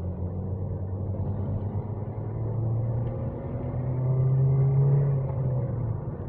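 A 2007 Toyota Vios G with an automatic gearbox and 1NZ-FE engine pulls away in traffic, its engine droning up in a steady rising rumble close to the cabin, with no talk.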